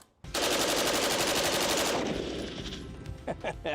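An AC556 rifle empties a full magazine in one rapid automatic burst, loud and close, the burst lasting under two seconds before fading into echoes and a few clicks.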